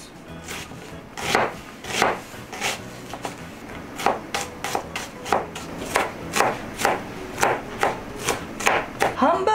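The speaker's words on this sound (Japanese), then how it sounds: "こんな感じでみじん切りにしていきます。" A knife finely minces onion on a cutting board for hamburger steak, the blade striking in quick irregular taps that grow into a steady rhythmic chopping, close and fairly loud with no speech.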